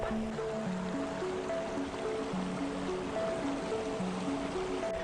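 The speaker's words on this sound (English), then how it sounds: "So we are down here at Steel Creek." Steel Creek flows steadily along the Anne Springs Close Greenway in York County, a continuous broadband rush of stream water with faint tonal sounds layered above it and no voices.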